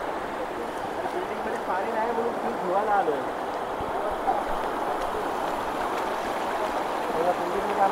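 Adai Waterfall near Panvel pours down after heavy rain, giving a constant rushing, churning roar of water with people talking over it throughout.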